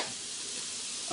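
Eggplant frying in oil, a soft steady hiss of sizzling heard close and fairly quiet over about a second.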